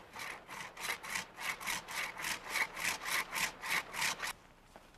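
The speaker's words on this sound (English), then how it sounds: "Make a shallow undercut first, then follow with a top cut." A pruning saw cuts through a tree limb during trail maintenance, about a dozen steady rhythmic back-and-forth strokes, close and clear with no talking.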